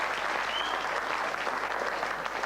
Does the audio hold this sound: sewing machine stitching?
no